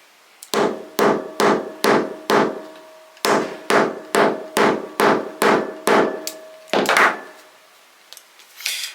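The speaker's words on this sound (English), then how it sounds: "I'm going to take my mallet and we'll just need to hammer this down" A mallet repeatedly strikes a flat cap jean button and its backing pin through fabric using a hand setting tool: about fifteen sharp, loud, close knocks in two steady runs, with a brief pause between them and no talk.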